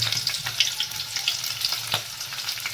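Chopped onions sizzle steadily in hot oil for a vegetable biryani, with a spoon stirring and scraping through them in repeated strokes, close and continuous.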